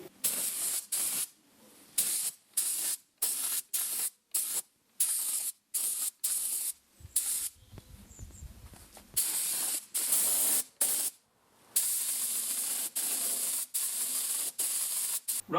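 Close bursts of spray paint coating the parts of a homemade brush sander, loud hissing spurts repeated in quick succession with short pauses between, one longer steady stretch in the middle.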